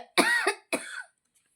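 A pair of quick, raspy coughs close to the microphone, followed by silence.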